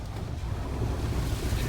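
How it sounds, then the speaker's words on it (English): Steady rushing water of a mountain creek near Tray Mountain, a dense, continuous broadband wash recorded close by, with some wind buffeting on the microphone and no voices. "So here we are back at the creek"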